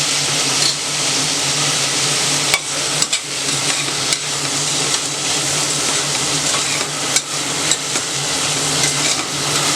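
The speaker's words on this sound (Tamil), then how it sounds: "இது மல்லித்தலையும் புதினாவும் நல்லா வதங்கி சுருண்டு கொஞ்சமாக போயிடும், அது வரைக்கும் நல்லா வதக்கணும்." Coriander leaves and mint sautéing in a pan, a steady loud sizzle with the scrape and clatter of stirring running through, close up and with no talking.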